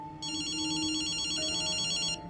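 Telephone ringing in Ghostwire Tokyo, a single steady electronic ring tone lasting about two seconds over a quiet game background.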